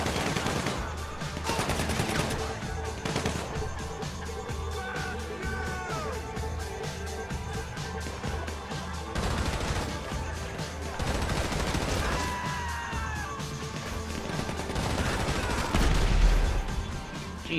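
Dense, sustained automatic gunfire from GTA V during a prison-break heist, rapid bursts repeating throughout over a busy game soundscape with scattered impacts and debris.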